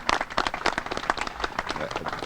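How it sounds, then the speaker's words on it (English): Audience applause at the Eagle Ridge grand opening at Brandywine Zoo, an outdoor crowd clapping for the zoo keeper staff, a dense burst of hand claps that fades slightly toward the end. "can we give them a big round of applause?"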